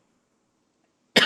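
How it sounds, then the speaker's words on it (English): A single sharp cough from a speaker at a talk on history and identity bursts out at the very end after near silence, loud and close. "Sorry, I'm coughing a lot."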